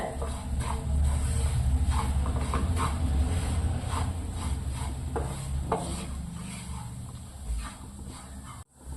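Spice powders stirred in a pan over a low flame for fish pickle, a steady scraping and rustling close by with light clinks of the spoon against the pan.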